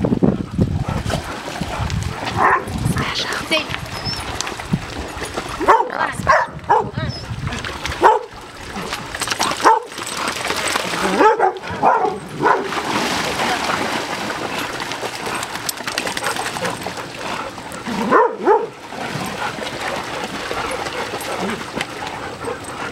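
Dog barking and whimpering outdoors near water, with splashes and a boat nearby, short yips and whines scattered among people talking and calling encouragement throughout.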